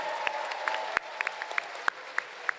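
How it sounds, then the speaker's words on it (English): Audience applause at an Anime Expo panel showcase, a steady wash of clapping with a few louder individual claps and whoops standing out, plus a faint sustained tone beneath in the first second. "Please give a round of applause for Miyazaki-san."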